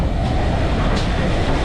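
Steam locomotive 4930 Hagley Hall runs on the Severn Valley Railway during a spring steam gala, heard as a brief, close, continuous rumble of the train and its carriages.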